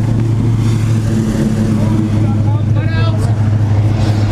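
A Corvette idles with its exhaust cutouts open, a steady low rumble close by, while people talk over it.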